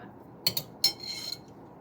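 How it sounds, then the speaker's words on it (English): Dishes and utensils are cleared off a kitchen counter while making cat treats: two quick clusters of close metallic clinks and clatters within about a second, then quiet. "now I'm going to clear my counter off"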